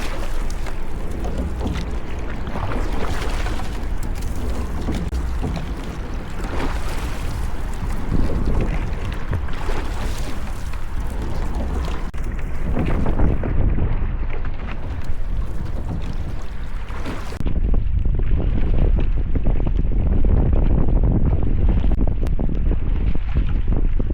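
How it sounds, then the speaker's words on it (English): Gusty wind roars across the microphone while water slaps and crashes against a small rowing boat, too small for its large rower, on rough water; steady, loud and close throughout with no talking. "The waves are crashing over this boat because I'm too big for it."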